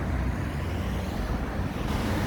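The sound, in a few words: car traffic on a city street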